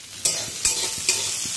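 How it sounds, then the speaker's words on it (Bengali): Onion frying in a pan crackles with a close, lively sizzle, punctuated by three sharp scraping strokes of a spatula at even intervals. "দেখো, এখানে পেঁয়াজটা ভেজে নিচ্ছি"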